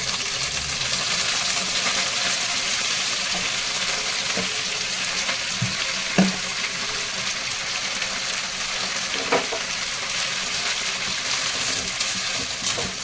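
Fresh mint leaves frying in hot oil for a chutney, a steady broadband sizzle that runs continuously, with a few faint knocks from stirring and no speech.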